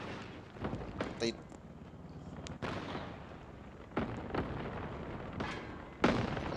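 Several heavy booming tank cannon shots in War Thunder Mobile, irregularly spaced, each a sharp thud that fades quickly over a rumbling background.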